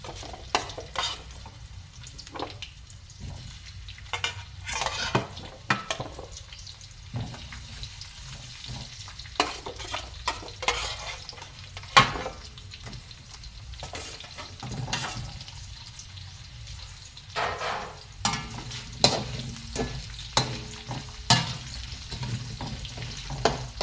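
Potatoes for a tuna curry fry in a pan under a soft sizzle, broken by frequent scraping and stirring clatters from a utensil at close range.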